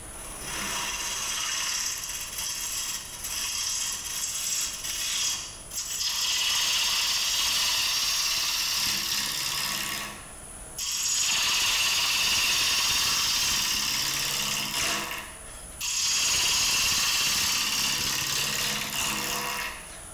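Square wooden bowl being turned on a wood lathe, a loud steady whirring hum with cutting noise in long passes broken by three short pauses.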